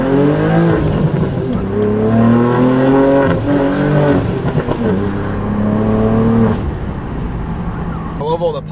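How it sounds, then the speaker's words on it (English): BMW G87 M2 with the S58 engine breathing through an aftermarket exhaust, revving hard with rising and falling harmonic sweeps, loud and close, with crackling pops near the end as a voice talks over it. "this is all just raw S58 sound that you get right out the box when you buy our exhaust"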